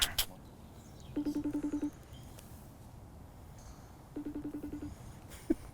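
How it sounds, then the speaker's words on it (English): A FaceTime call rings on a mobile phone: two short bursts of rapid, evenly pulsed electronic chirps a few seconds apart, clear over faint outdoor background noise. "What's that FaceTime?"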